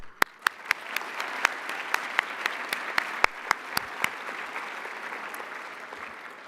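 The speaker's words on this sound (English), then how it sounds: "I would like to give a round of applause" A graduation audience at the Odyssey Institute Class of 2024 ceremony breaks into sustained applause, with sharp individual claps close by over a dense wash of clapping that gradually thins out.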